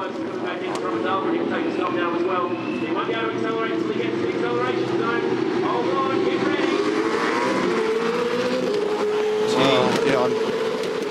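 V8 Supercar race car engine at the 2014 Adelaide 500 street race, a loud sustained droning roar with shifting pitch as revs rise and fall, under commentators talking.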